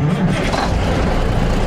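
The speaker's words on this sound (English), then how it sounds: "has a new engine in it, and you can just hear it" A 1974 truck with a new engine idles close by, a steady low-pitched rumble running continuously with no clear revving.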